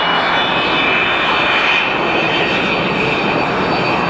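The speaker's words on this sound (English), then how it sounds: "That's the most obnoxious airplane in commercial aviation today, as Frog Airways takes to the sky." A commercial jet airliner climbs away from Atlanta Hartsfield airport, its engines producing a loud, steady roar with a high whine that holds throughout, heard alone without speech.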